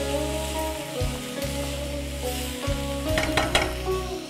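Chinese rice wine vinegar poured into a hot pan, with a steady close sizzle and frying hiss over a low rumbling hum, brief clinks of metal near the end.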